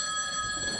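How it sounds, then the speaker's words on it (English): A mobile phone rings with a steady electronic tone during a panel discussion on North American broadband, moderately loud and sustained throughout with no talking. "Oh, sorry, I will switch off my phone."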